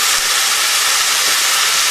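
Steady, loud hiss of spinach sizzling in a hot frying pan, continuous and even throughout with no voices.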